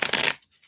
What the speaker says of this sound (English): I feel like I need to shuffle these up